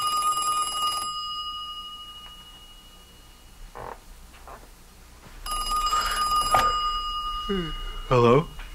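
A telephone rings in two electronic bursts separated by a pause, with voices and other short sounds in between and a brief warbling effect near the end.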